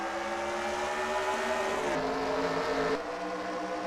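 NASCAR Sprint Cup race cars lapping the track at a 2014 Camping World RV Sales 301, a steady droning engine roar with pitch shifts as cars pass, heard at a distance without talk.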